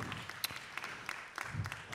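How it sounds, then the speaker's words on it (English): Audience at a live outdoor Fête de la Musique concert in 2023 claps and applauds, a fairly faint, scattered patter of hand claps heard from a distance. "Give a round of applause to yourselves."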